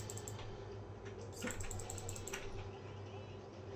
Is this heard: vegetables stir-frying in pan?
no